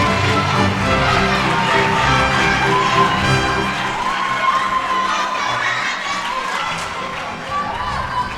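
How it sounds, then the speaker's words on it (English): Audience of children and adults at a school STEM quiz event clapping and shouting cheers, a loud, dense burst that stays busy throughout before easing slightly toward the end. "Please clap for them."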